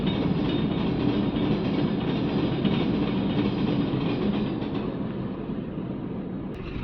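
A long train hauled by several locomotives, including one placed mid-train, rolls past near a canal-side village road with a steady, loud rumble and rattle of wagons that eases slightly toward the end.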